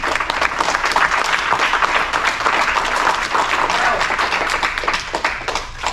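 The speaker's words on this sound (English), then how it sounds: "give yourselves a round of applause really quick" A crowd of children clapping together, loud and sustained, with steady applause filling the whole stretch and a few voices mixed in.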